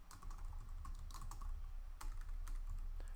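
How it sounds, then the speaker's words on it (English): A computer keyboard clatters as a name is typed in, a quick run of light, irregular key taps close by with brief pauses between bursts and no talking. "type in the person's name."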